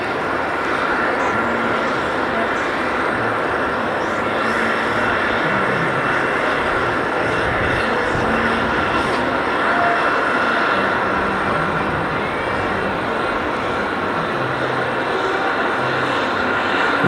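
A jet airliner taxiing at JFK airport, a steady loud engine whine and rumble holding evenly throughout, close by and alone without talk.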